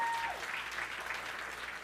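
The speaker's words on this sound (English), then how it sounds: "So guys, please give him a loud round of applause, please." An audience at a Saturday gathering of business leaders in South Florida gives a round of applause, a steady crowd clapping at moderate level with a brief tone fading near the start.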